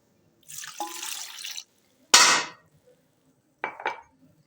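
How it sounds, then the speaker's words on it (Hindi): Water is poured from a cup into a cooking pot of dum aloo with potatoes and spices, in two splashing bursts with a short gap and a brief clink between them, close and fairly loud. "और अभी इसमें मैं 1 कप पानी डालूँगी"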